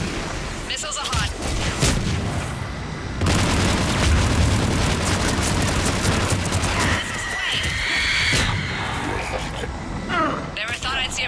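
Missiles launch and explode in Mass Effect 3, a run of loud booms and rumbling blasts over heavy battle noise, with a rushing whoosh and further thumps near the end and a voice speaking partway through.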